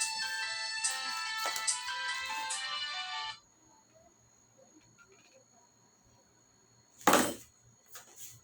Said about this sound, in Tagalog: Naiwan yung cellphone ng nanay ko, tumatawag yung kapatid ko sa kanya.